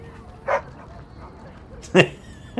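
A puppy in the video game Dragon Age: Origins lets out two short, high yipping barks about a second and a half apart, with a voice talking and faint game ambience underneath.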